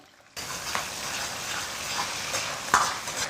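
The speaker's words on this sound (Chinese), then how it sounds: "锅里面留一点底油，下入准备的这些香料" Spices stir-frying in a little hot oil in a wok, a steady close sizzle with a few louder scraping strokes of the spatula.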